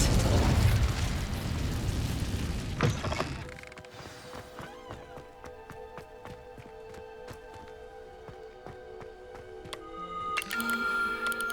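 An Incendio fire spell bursts in Hogwarts Legacy with a loud whooshing blast that crackles and fades over a few seconds, leaving quiet ringing, chiming game ambience that swells again near the end.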